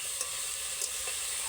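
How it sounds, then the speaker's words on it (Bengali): Onion, tomato and green chilli fry together for a veg momo filling, a steady hissing sizzle close by with a couple of soft stirring taps, and no speech. "ভেজ মোমোর এই পুরটা বানানোর জন্য সমস্ত কিছু সবজি একসঙ্গে দিয়ে কিন্তু ভাজতে হয়।"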